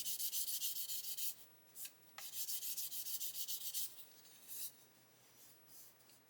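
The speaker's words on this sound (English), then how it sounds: "I'm going to carry on with sanding this" Rhythmic sanding strokes across the plastic body of an Italeri 1/12 Lancia Stratos model car, close and dry, a steady run of rasping passes with short pauses between bursts.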